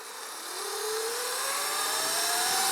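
A Sur Ron Light Bee MX electric dirt bike with a KO Moto Factory Spec combo and PC Base Tune accelerates at full throttle, its motor whine climbing steadily in pitch and growing louder, with no voices.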